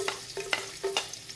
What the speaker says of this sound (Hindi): ऑयल गरम हो चुका है, अब लहसुन शामिल करेंगे।